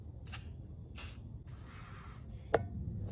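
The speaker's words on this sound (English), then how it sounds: "I'm gonna spray it down with some WD-40" Several sharp hissing bursts from a WD-40 aerosol can sprayed on a Subaru wheel hub, two short sprays, one longer spray, then a final quick puff, close by in a quiet space.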